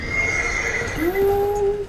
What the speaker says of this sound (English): Okay, we got a horse.